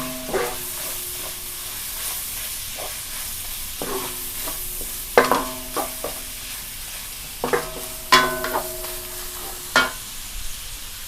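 Bite-sized pork belly stir-fried in a pan sizzles steadily while a spatula scrapes and clatters against the metal in irregular bursts, several sharper knocks standing out, with no talking.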